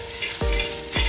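Beef stirred and roasted in a large pot, sizzling steadily with two quick scraping stirs of a spoon against the pot's base, close and clear.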